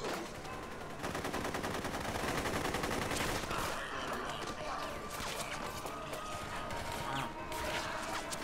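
Gunfire against zombies in Dead Rising, a steady rattle of rapid shots mixed with clattering game action, fairly quiet overall, with no talking.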